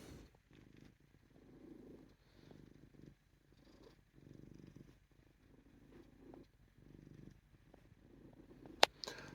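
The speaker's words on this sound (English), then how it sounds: "He has the cutest little purr." A long-haired Ragdoll cat purrs close up and quietly, a soft rumbling that swells and fades with each breath in a steady rhythm, with a brief sharp sound near the end.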